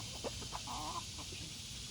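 A domestic chicken gives a few soft, short clucks and a brief burble during a morning routine, faint against a steady background hiss, with no talk.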